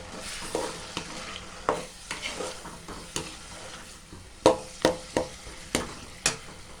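Tomatoes sizzle in a pan for mutton gravy while a utensil stirs and scrapes, giving a string of sharp clacks over a soft, steady frying hiss.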